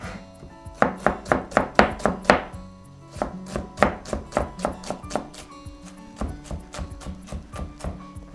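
A knife chops onion for chicken and mushroom risotto on a cutting board, making rapid rhythmic thuds in quick bursts with short pauses between runs, loud and close.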